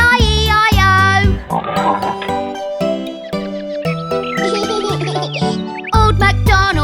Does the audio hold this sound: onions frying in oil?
no